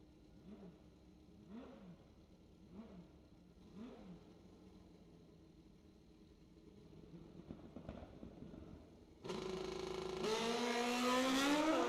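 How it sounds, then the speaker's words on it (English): A drag racing motorcycle at a ManCup World Finals event revs in rhythmic bursts at a distance, then roars louder as it launches and climbs through the gears with a rising whine. "As of now, the bike seems to be going through the gears."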